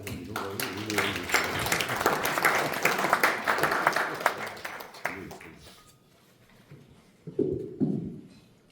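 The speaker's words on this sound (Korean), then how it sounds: "큰 박수로 맞이해 주시기 바랍니다" Warm applause from a business forum audience greets a professor of Eastern divination at a morning lecture, dense clapping for about six seconds before fading, then a brief second burst with a voice speaking.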